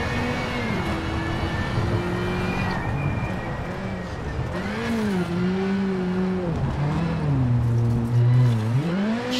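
A Ford Fiesta R5 rally car engine revs hard in the WRC7 game at Rally France, its pitch climbing and dropping steadily through gear changes, loud and continuous with occasional tire scrabble.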